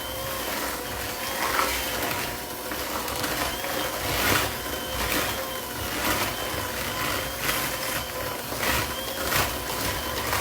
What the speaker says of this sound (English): get my mixer to going again